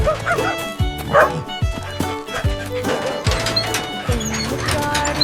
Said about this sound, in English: Spotty, Spotty, bark, hooray.